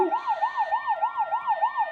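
An ambulance siren in the Roblox video game wails in a steady, rapid up-and-down cycle, loud and unbroken, with no voices over it.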